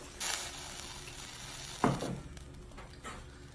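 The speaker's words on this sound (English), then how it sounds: "I'm going to add 2 cups of water." Two cups of water pour into a hot pot of ground turkey cooking in its own fat, giving a sharp sizzle and hiss, then quieter bubbling and a few faint clinks.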